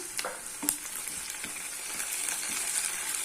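Onions and curry leaves sautéing in a pan, a soft continuous sizzle broken by a few sharp stirring scrapes and taps, fairly quiet and close, with no talking.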